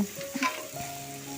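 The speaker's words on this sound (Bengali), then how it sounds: "খিচুড়ির মধ্যে দিয়ে দেব আর নাড়ি দেব" A spoon stirs through thick mixed-vegetable khichuri in a hot pot, with a soft scrape and a steady gentle sizzle for a moment.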